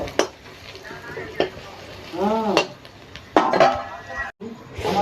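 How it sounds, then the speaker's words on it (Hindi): Chopped onions fry in a pan over a lit gas stove in an Indian village kitchen, giving a steady close sizzle with scattered utensil clinks and scrapes as they are stirred. "यहाँ गैस जो कि चालू छोड़ दिए हैं और यहाँ प्याज ही भुजा रहा है"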